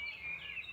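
A white-rumped shama (murai batu) kept in a cage at home gives a short, bright whistled phrase with sliding tones, clear and fairly close, alone and brief.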